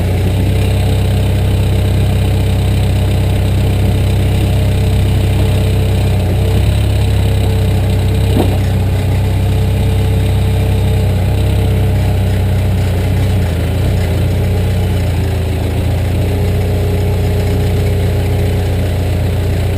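The engine of a heavy machine with stabilizers, moving rock, drones loudly and steadily throughout under throttle, a constant close rumble with only slight shifts in pitch.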